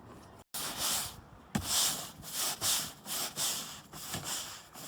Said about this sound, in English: Starting by scraping off all the remaining bits of the old roof coating.